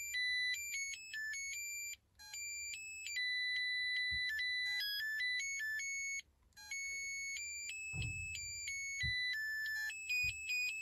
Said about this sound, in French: Ah, j'adore cette sonnerie, moi, c'est celle-là que je me préfère.